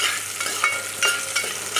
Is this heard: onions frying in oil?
yes